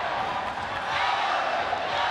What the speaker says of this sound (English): the crowd is loving this main event